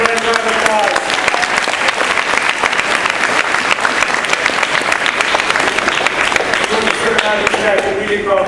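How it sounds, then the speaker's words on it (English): A celebration audience for a 50th anniversary gives loud, sustained applause, dense clapping close up throughout with some voices mixed in. "Give him a round of applause."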